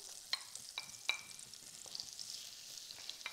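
Minced onion, ginger and garlic cook in butter for salmon tikka masala, giving a faint, quiet sizzle broken by several light spoon-stirring taps and scrapes, with no talk.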